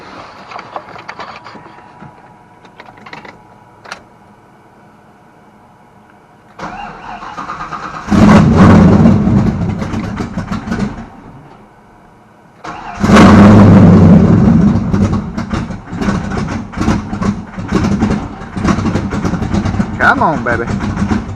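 A 1995 Ford Mustang Cobra with its stock exhaust, before new headers are fitted, is cranked twice. A first burst fades, then a second start catches into a loud, rumbling idle close by, with voices talking over it.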